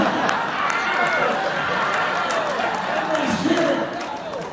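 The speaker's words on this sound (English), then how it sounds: "Everyone's cheering." An audience at a Twisted Sister convention panel at Spooky Empire 2019 cheers and applauds, making a sustained wash of crowd noise with scattered claps and whoops under speech.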